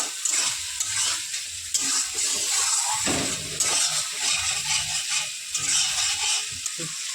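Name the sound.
spice paste frying in pan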